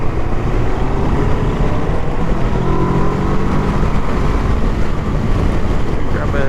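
Kawasaki Versys motorcycle accelerating on a ride at a demo day, a steady engine drone buried in heavy, continuous wind roar across the whole stretch, with no clear pitch rise standing out.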